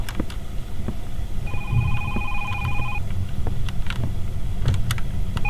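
Telephone ringing in a horror game about a mother haunted by nightmares after her son's death, one electronic ring tone lasting about a second and a half over low rumbling ambience, with faint clicks around it.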